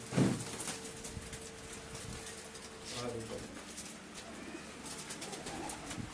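Soft pigeon cooing comes from nearby amid faint ambient noise and quiet, distant talking, with a sharper knock at the start.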